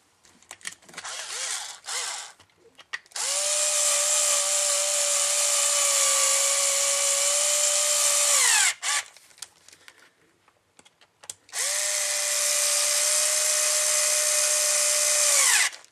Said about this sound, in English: I'm installing the first and second screws that go into the bottom of the chassis